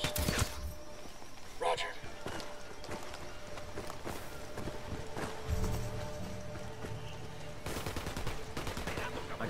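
Gunfire crackles in Tom Clancy's Ghost Recon, scattered shots and short bursts at moderate distance spread across the scene, with footsteps and squad voices speaking over the action.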